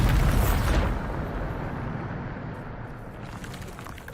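A Bombarda spell blast in Hogwarts Legacy, a loud booming burst at the start that fades into a long rumbling decay.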